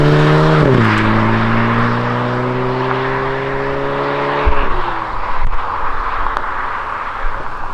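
Volkswagen Golf GTI Mk8 engine pulling through bends: a loud, close drone that rises, drops at a shift, holds steady, then eases off as the car settles, with tyre and road noise beneath.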